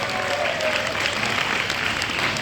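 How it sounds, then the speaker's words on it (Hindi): An audience at an Arya Samaj gathering claps continuously, a dense and fairly loud wash of applause that holds steady throughout. "करतल ध्वनि से जोरदार शुभकामनाएं प्रेषित करें।"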